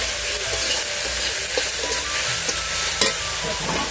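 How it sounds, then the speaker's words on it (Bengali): Cumin and chili spice paste fries in a pan for a crab curry, a steady close sizzle with occasional scraping stir strokes and a sharp clack near the end, no voices. "দিয়ে ভালো করে মশলাটাকে কষে নেব।"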